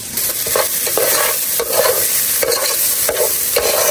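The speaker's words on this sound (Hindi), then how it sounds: "मेरा चावल पूरा अच्छी तरह से हो गया फ्राई" Rice being stir-fried in a pan while preparing matar paneer, a steady loud sizzle broken by rhythmic scraping and tossing strokes about every second, with no voices.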